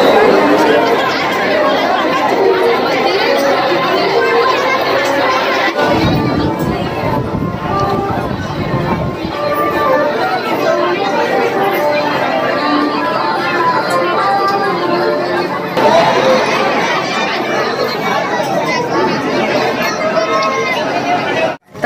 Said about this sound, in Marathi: आजच तर इतकी गर्दी आहे इथे